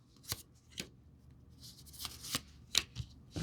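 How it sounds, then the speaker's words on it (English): Memento Mori cards are shuffled in a few quick riffling bursts, crisp and close, separated by short pauses, with softer card handling in between. "I'm going to pull a few of these Memento Mori cards."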